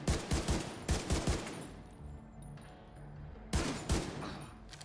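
Gunfire in the shooter game Tom Clancy's The Division 2 comes in loud bursts of rapid automatic shots, with a pause of quieter game ambience before another burst at the end.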